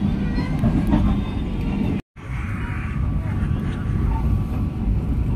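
The Cikuray passenger train pulls into Leles station at night in the rain, a continuous low rumble and rolling roar that persists steadily, with a momentary gap partway through.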